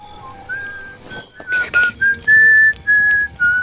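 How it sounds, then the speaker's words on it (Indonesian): A series of short, clear human whistles, rising and steady tones repeated in a quick signalling pattern, close and fairly loud. "Tak lama, terdengar kode siulan dari Ulzama."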